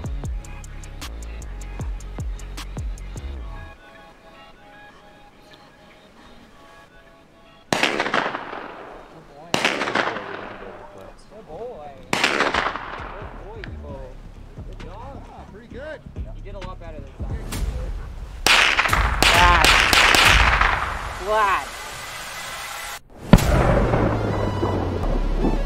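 Several sharp gunshots crack out at irregular intervals during police dog gunfire training, some spaced seconds apart and a couple in quick succession, echoing amid outdoor background noise.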